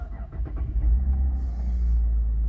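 A Holden VF Calais with a high-flow catalytic converter exhaust cranks and fires, settling into a steady, deep idle rumble close by with no talking.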